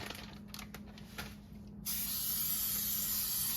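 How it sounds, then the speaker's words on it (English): Pump spray bottle misting over a pet's dinner bowl, heard as a soft hiss, then a sharp, steady spray that continues close and loud to the end. "Give her a spray."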